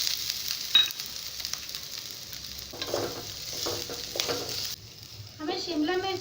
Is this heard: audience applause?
no